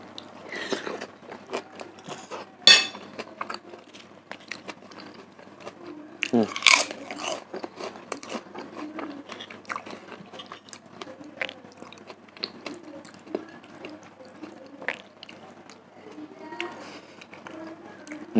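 Close, crunchy biting and chewing of gado gado, the Indonesian vegetable salad with peanut sauce, with sharp crunches and wet mastication repeating throughout and occasional brief speech.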